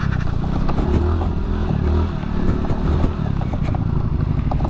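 A Suzuki Nex Crossover motorcycle rides along a muddy, uneven road, its engine droning steadily and loudly up close with rattles and clatter from the rough surface throughout.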